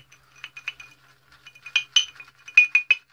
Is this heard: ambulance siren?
no